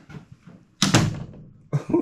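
A bedroom door in a shed converted to a tiny house in the woods swings shut with a solid close thud, followed moments later by a second shorter knock, with soft movement noise before it.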